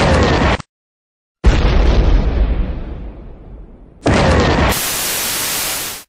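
A Mortal Kombat 9 fatality laser fires in loud explosive bursts, a sharp blast cutting to silence, then a booming burst that fades, followed by another blast and a steady harsh hiss.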